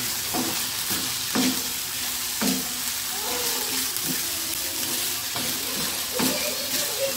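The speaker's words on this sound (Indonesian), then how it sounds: "Ini ditumis sebentar lagi ya." Chili flakes are stir-fried in a pan, sizzling steadily while a utensil scrapes and clatters against the pan in repeated strokes. The cooking is loud and close, with a faint voice in the background.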